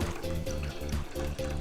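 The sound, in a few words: pouring organic low sodium chicken broth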